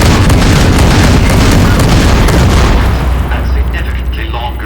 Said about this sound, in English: The M235 missile launcher gives